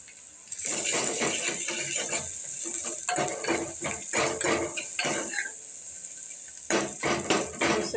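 Garlic stirred in a pan with a metal utensil, giving repeated clattering scrapes and knocks against the pan in bursts, fairly close and loud, with short pauses between strokes.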